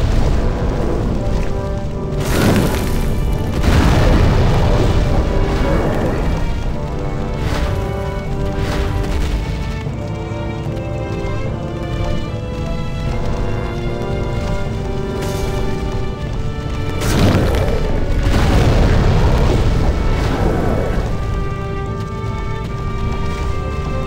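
Boss's fire attacks in Demon's Souls: deep, loud booming roars and rumbles that swell and fade repeatedly over a continuous musical backdrop.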